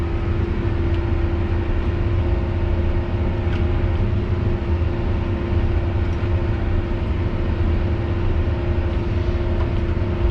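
A John Deere 772GP motor grader labours steadily in third gear, in six-wheel drive with the differential locked, as it pulls material along a road shoulder. Its loud, continuous, deep engine drone holds even throughout, with no talk.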